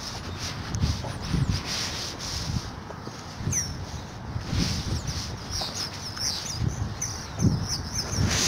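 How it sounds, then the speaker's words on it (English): Birds chirp outside near a tree, thin repeated tweets heard over a steady rubbing, scuffing ambience with occasional low thumps; no one talks. "Birds outside of our tree."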